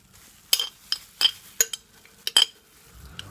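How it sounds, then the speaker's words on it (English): A large metal tablespoon clinks and scrapes against a glass jar while garlic extract is dug out: about six sharp, bright knocks at irregular intervals, close and clear, with no talking. "I'm using a large tablespoon to get this out of here"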